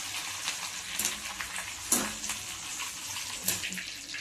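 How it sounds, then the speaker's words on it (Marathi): Curry leaves crackling in hot oil for a tadka while making chivda, a soft continuous bubbling sizzle with a few sharper spits and pops scattered through it, fairly quiet and without talk. "आता कढीपत्त्याचा आवाज कसा येतोय बघा, असा खळखळ आवाज आला पाहिजे।"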